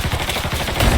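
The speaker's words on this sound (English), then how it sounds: "He's shooting the shit out of me!" Rapid, loud gunfire in Mafia III, with repeated close shots in a quick rhythm that swell heavier at the end, and no voices over it.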